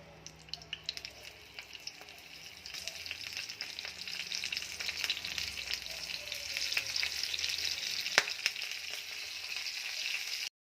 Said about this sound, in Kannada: ಎಣ್ಣೆ ಕಾಯಕ್ಕೆ ಇಟ್ಟಿದ್ದೀನಿ. ಇದನ್ನ ಎಣ್ಣೆಲಿ ಬಿಡಬೇಕು